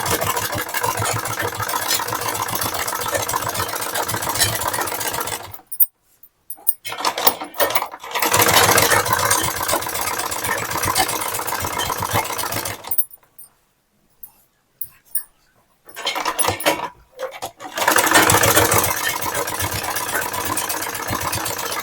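A sewing machine stitches a blouse in loud, close mechanical bursts of rapid whirring, broken by several pauses of near silence between runs.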